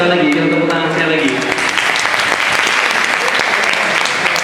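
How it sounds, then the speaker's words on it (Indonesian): A student debate audience applauds loudly and steadily, dense clapping filling the whole stretch, with a speaker's voice heard over it at the start. "kita tepuk tangan sekali lagi."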